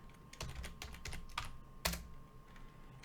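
Fast, uneven keystrokes on a computer keyboard while working in a terminal, close and continuous, with one sharper, louder key press near the end.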